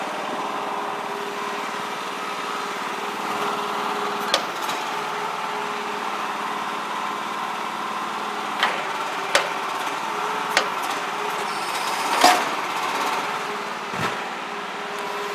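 A crawler-mounted aerial lift's jib retracting toward its cradle, a steady mid-pitched engine and hydraulic drone running throughout with occasional faint clanks and knocks.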